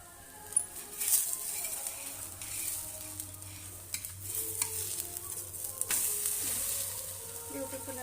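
Masala ragi roti sizzles on a hot pan with a steady, moderate frying hiss, while scraping spatula sounds and soft clinks come through as the roti is flipped.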